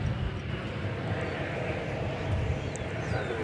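An Airbus A319 airliner's jet engines drone steadily at a distance as it prepares to take off at DFW Airport, a broad, even rumble with no clear talking.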